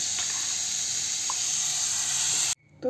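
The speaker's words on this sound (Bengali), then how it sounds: "এখন আমি সুজি দিয়েও অল্প ভেজে নিচ্ছি" Semolina with vegetables frying in a pan gives a continuous loud hiss and sizzle that cuts off abruptly near the end, with no talking.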